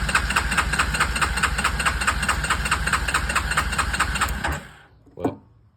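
A Yamaha Kodiak 450 ATV that won't start cranks on its starter in a fast, steady, loud rhythmic churn for several seconds, then cuts off, followed by a brief clunk.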